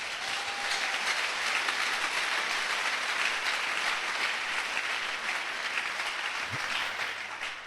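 An audience breaks into sustained applause, a dense steady clatter of many hands clapping that carries on evenly throughout and tapers slightly at the end.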